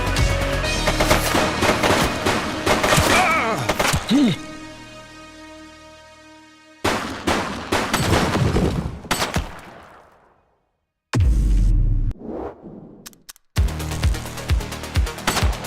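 Bursts of gunfire from a suspect in The Precinct police video game: loud rapid volleys that trail into a fading echo, a short silence, then further sharp shots and a renewed flurry near the end.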